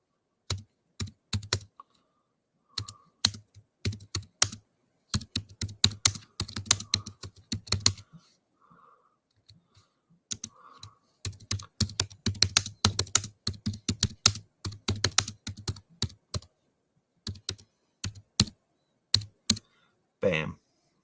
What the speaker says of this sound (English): Typing you a message.